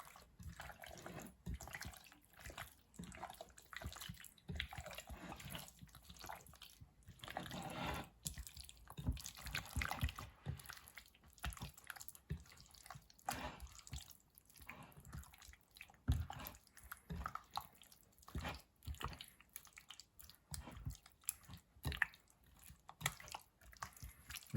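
Chicken 65 marinade is mixed close up, making soft wet squelches and sticky slaps in an irregular, continuous rhythm at low volume.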